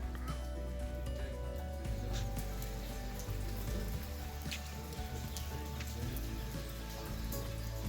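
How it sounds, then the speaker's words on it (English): Steady rain falls around a campsite shelter at Land Between the Lakes, a dense patter of drops on surfaces with scattered louder splats and a low background rumble, continuous throughout. "wait for the rain to go away."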